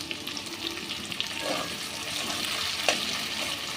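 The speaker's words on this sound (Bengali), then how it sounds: "এবার পেঁয়াজটা খুব ভালো করে ভেজে নেব।" Sliced onions fry in a pan for a chicken curry, with a steady soft sizzle and a few light stirring scrapes and clicks close by.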